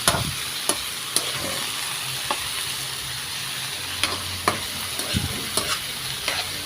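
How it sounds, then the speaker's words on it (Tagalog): Smoked fish and bitter gourd fry in a pan, a soft continuous sizzle broken by sharp scraping clicks of a spoon stirring at irregular intervals, close and fairly quiet. "Haluin lang natin mga kaidol."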